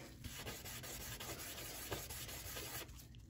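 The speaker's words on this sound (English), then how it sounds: "if you do perfect circles all the time, you can actually end up sanding a circular shape into your dice" Steady, continuous scratchy rubbing of sandpaper against a small unfinished plastic die, back-and-forth figure-eight strokes blending into an even abrasive hiss, close up.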